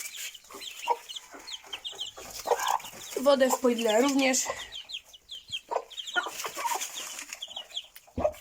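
Guinea fowl and three chicks cluck and peep nearby at feeding time, with high chirps scattered throughout and a longer run of lower clucks, while a person speaks briefly.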